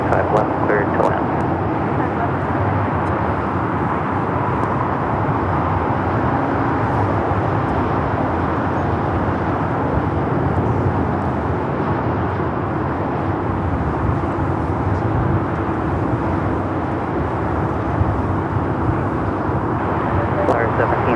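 A heavy Boeing 777 on short final to runway 25 left at LAX makes a loud, steady, broad jet roar that rumbles continuously, with voices faintly present beneath it.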